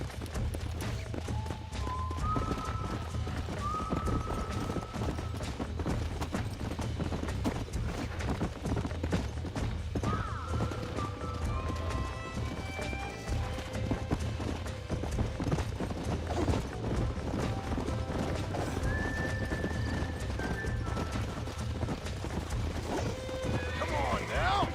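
Horse galloping and neighing in the Western game Red Dead, steady pounding hoofbeats throughout with several whinnies, under a busy game soundscape and frequent spoken voices.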